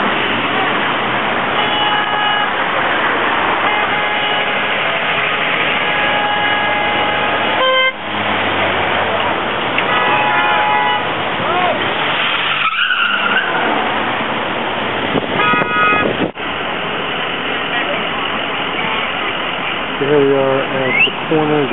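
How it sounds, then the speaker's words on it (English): Dense street traffic at a gridlocked 5th Avenue and Atlantic Avenue intersection, loud and continuous with engine rumble, repeated car horn honks and brief pauses in the din. "cars that are going north only on 5th Avenue trying to cross"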